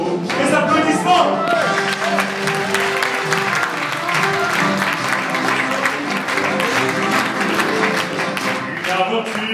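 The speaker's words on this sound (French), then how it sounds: "Les applaudissements!" Audience at the Automobile Club de France applauding after a song, broad clapping over lingering piano and vocal tones, loud and steady from start to finish.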